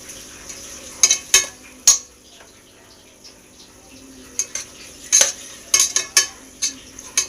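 Chopped tomato and green chillies fry for biryani in a home kitchen, a faint steady sizzle running underneath while a spoon scrapes and clanks against the pan in sharp bursts of stirring.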